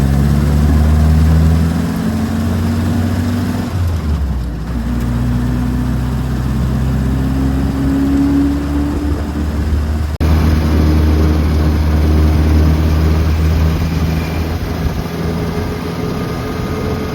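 Willys Jeep engine running steadily on a first test drive in cold weather, a loud, close low rumble that shifts pitch with changes in speed and continues throughout without talk.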